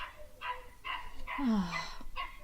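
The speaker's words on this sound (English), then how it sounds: "that barking is annoying" A dog barks outside at a distance, several rough barks in an irregular run with one whining, yelping note in the middle, set against a faint background.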